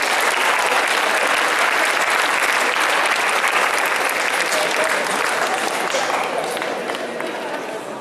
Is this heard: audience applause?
yes